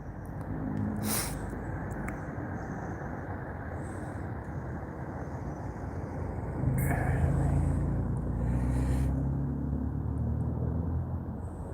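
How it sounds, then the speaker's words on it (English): A car passes on a road at night, its broad rumbling noise swelling louder partway through and then easing off, with a few faint voice-like sounds and clicks from the person walking nearby. "Wait for this car to go past."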